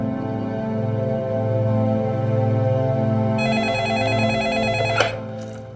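A phone ringing on an outgoing call, heard as a steady repeating electronic ring tone that runs the whole time, close and fairly loud, with a brighter tone layer joining partway through and a short click near the end.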